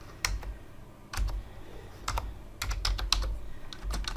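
A computer keyboard is typed on in a quiet room, with a run of sharp, close key and space bar presses in uneven bursts.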